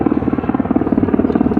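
National Guard black military helicopter overhead, steady rapid rotor thumping with a droning engine, loud and continuous throughout with no talking.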